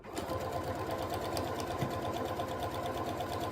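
A sewing machine runs fast and steadily while chain-piecing quarter square triangle quilt blocks, its rapid needle chatter loud, close and unbroken throughout.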